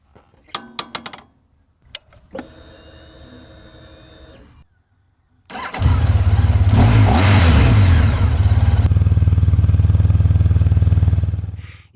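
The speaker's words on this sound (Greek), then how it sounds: "Οι ήχοι που ακούω από τη μηχανή μου είναι πολλοί." A few metallic clicks and a steady electronic tone, then a motorcycle engine starts and runs loud and close, rumbling steadily for several seconds.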